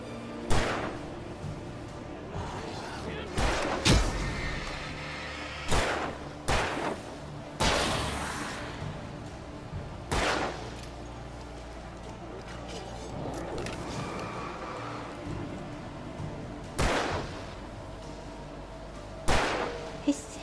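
Gunfire in the video game Alan Wake Remastered: a string of sharp, loud shots at irregular intervals, some in quick pairs, over a low rumbling game backdrop with talk around them.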